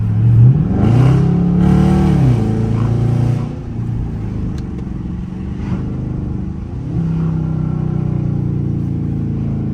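Stock Dodge Charger RT engine heard from inside the car while driving. A loud rev swells early, then a lower cruising drone follows before the engine builds again near the end.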